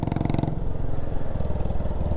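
A motorcycle with a loud silencer exhaust on a scenic hill ride past hairpin bends, its engine thumping in a rapid, steady pulse close by, the rhythm shifting slightly as it rides on.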